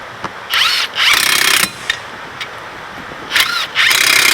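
A power tool runs in short whirring bursts while it drives in the brake caliper bolts on a Ford Fusion during a front pad and rotor job. Four loud, close bursts are separated by brief pauses and light clicks.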